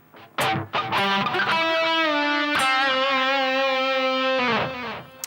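An electric guitar plays a solo intro with heavy distortion: a few quick picked notes, then sustained, ringing bent notes held for several seconds, loud and up close, with no talking.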